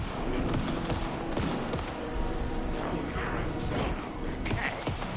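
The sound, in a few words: gunfire in the video game Alan Wake II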